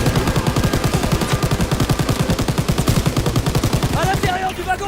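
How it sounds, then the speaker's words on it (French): Rapid machine-gun fire in the World War II shooter Call of Duty WWII, loud, close bursts of regular repeating shots pounding for about four seconds before stopping, with game sounds and voices mixed in. "Continue à tirer!"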